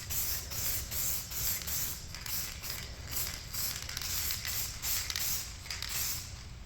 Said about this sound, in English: I'm just going to put a misting of this green over top of this.